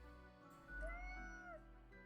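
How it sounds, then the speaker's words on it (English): A contented domestic cat meows indoors in a short sequence of rising and falling calls, close and fairly quiet against a faint steady background hum. "The cat repeats a sequence of contented meows"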